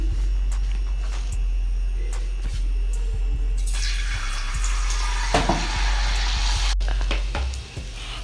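Fries dropped into hot oil begin to sizzle partway through, a bright frying hiss swelling over a steady low hum, close and alone without talk.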